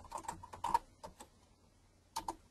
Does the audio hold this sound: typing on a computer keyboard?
yes